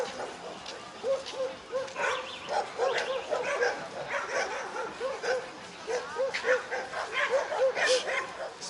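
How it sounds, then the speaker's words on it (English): Stray dogs bark wildly in a nighttime street near the Black Sea coast in Batumi, with a rapid run of yips and bow-wows and people talking in the background. "Stray dogs are going wild over there."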